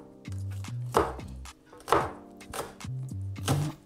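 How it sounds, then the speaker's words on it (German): A knife slices chicken satay ingredients thinly on a cutting board, giving four or five crisp, evenly spaced chops close by with no talking. "Richtig schön dünn schneiden."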